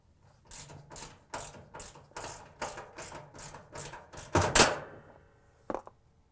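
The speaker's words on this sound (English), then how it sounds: "using the same 7/16 inch socket wrench, remove the front eyeball nut" A 7/16 inch socket wrench ratchets an eye bolt nut loose on a Maytag washer suspension, with about a dozen evenly spaced clicking strokes, close and clear, then a sharper metallic clank near the end.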